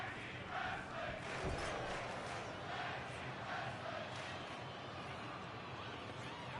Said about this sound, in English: The crowd chanting tag team wrestling.